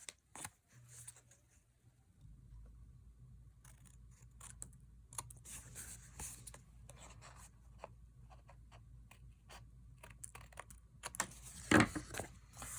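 Scissors trim leftover paper scraps glued along the edge of an envelope, a quiet run of short snips and paper rustles over a low steady hum, with a sharper crinkle near the end.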